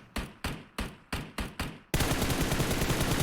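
Gunfire in PUBG Mobile during a competitive league match: six sharp single shots in a steady rhythm, followed by a loud, dense burst of continuous automatic fire.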